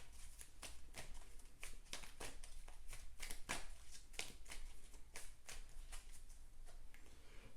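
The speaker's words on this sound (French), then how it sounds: "je vais mélanger aussi le deck des méchants" A deck of playing cards is shuffled over and over for a card game, a steady run of quick riffling bursts close to the mic with no one speaking.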